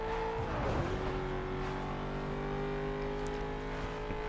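A Corvette C6R race car engine in Need for Speed: Most Wanted (2005, PS2) drones at steady high revs, loud and close, its pitch shifting slightly early on before holding a sustained roar.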